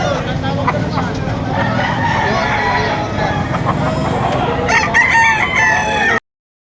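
A rooster crows loudly and close by at an outdoor chicken market in rainy weather, one long drawn-out call rising over steady crowd babble and people talking.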